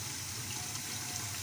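Freshly boiled, very hot water poured onto uncooked old rice, a steady close gushing fill that lasts the whole short moment, with no voices.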